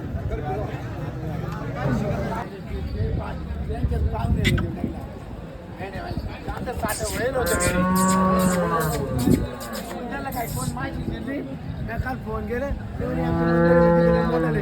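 Cattle low loudly several times, long drawn-out moos over a crowd murmuring and people talking nearby at the Loni bull market.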